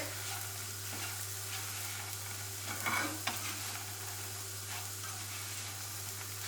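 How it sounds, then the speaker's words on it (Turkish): Croutons sizzle and crackle steadily as they fry in butter in a hot pan, with a brief scrape of stirring midway, no voices. "Güzelce kızartacağım bunları."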